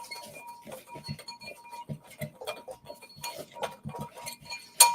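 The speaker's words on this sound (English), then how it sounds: "And then just kind of combine these, stir them together" A spoon stirring dog treat ingredients, including cinnamon, in a bowl, with irregular close clinks and scrapes that scatter and cluster, ending in a sharper knock.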